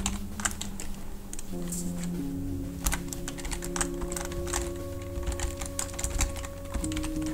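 Computer keyboard typing in quick irregular bursts of close clicks over a steady low electrical hum, with no talk.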